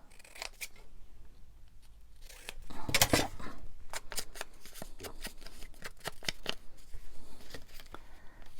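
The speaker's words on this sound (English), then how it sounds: "Trim the white off." Scissors trimming the white border off a paper label for a junk journal envelope, a run of short crisp snips and paper rustles at close range, with no talking.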